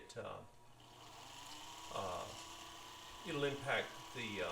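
A Singer sewing machine's old-style bobbin winder spins thread onto a bobbin, giving a steady, quiet motor whir that runs throughout while a person talks over it.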